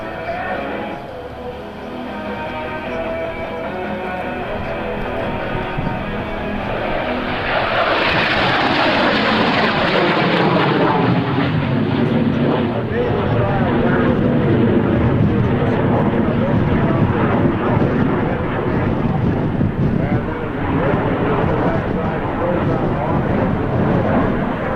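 A fixed-wing aircraft performs aerobatics at a 2001 NAES Lakehurst airshow, its engine roar building sharply midway and then staying loud and sustained as it passes and turns, with a commentator talking over the sound.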